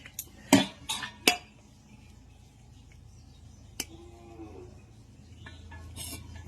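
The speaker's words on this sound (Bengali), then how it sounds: "ছেলের জন্য আগে ভাতটা বাড়ি।" Hot, steaming rice is served from a pot onto a plate in a home kitchen, with a few sharp metal clinks of a spoon against the pot, soft scraping between them and a lone clink later on.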